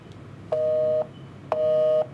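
A telephone call to an MRO official goes unanswered: two steady electronic tones, each about half a second long, sound a second apart over faint background hiss.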